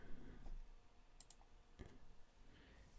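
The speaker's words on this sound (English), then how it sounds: "So just type in audit" Keystrokes on a computer keyboard, a few scattered quiet clicks typed out one at a time in a quiet room, with no talking.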